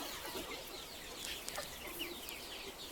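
Local chickens cluck and chirp on an Assamese poultry farm, with several birds calling overlapping and fairly faint against a steady background hiss and no speech.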